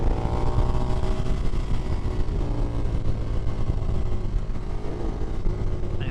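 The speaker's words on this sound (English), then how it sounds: "this shift cam engine just has so much more now" A 2024 KTM Duke 390 motorcycle's shift cam engine revs loud and close. Its rough, throaty drone rises and falls as the bike is ridden under throttle.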